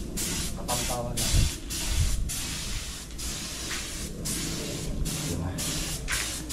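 Spray gun applying sanding sealer and clear gloss finish to a woodworking project, a continuous airy hiss broken by repeated short pauses as the trigger is released, with a brief low thump near the start.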